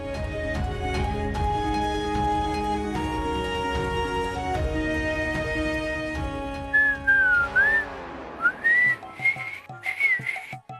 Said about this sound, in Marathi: पहिले शिट्टी वाजव